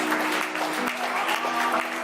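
A wedding ceremony crowd applauds, a steady, even wash of many hands clapping that holds at moderate loudness throughout, with a few faint voices underneath.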